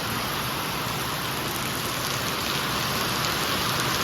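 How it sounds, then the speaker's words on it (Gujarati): Heavy rain pours steadily over a village home, a dense, continuous hiss of downpour on surfaces that stays loud and even throughout, with no voices. "તો બહુ વરસાદ આવી ગયો છે જો"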